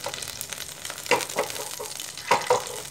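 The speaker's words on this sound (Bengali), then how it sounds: "আমি যে তেলটা ছিল ওর মধ্যে জিরে ফোড়ন দিলাম" Whole cumin seeds crackle in hot oil left from deep-frying fish, a soft continuous sizzle broken by a few louder pops and stirring scrapes.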